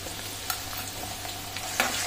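Garlic-ginger paste frying with browned onions in a pan, a continuous close sizzle with a couple of sharp stirring clinks.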